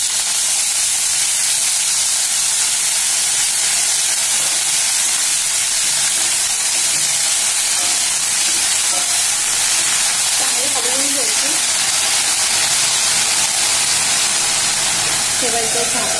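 Leafy greens hiss and sizzle steadily in hot oil in a pan, a continuous close spitting sound for the whole stretch, with faint voices under it.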